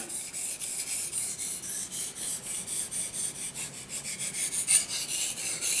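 A knife blade drawn back and forth across a Japanese water stone, with rhythmic gritty rasping strokes, about two per second, close and steady, and no voices.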